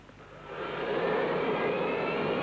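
Jet engines roar up to a loud, steady whine and rush as an airliner powers up for takeoff, building over the first second then holding.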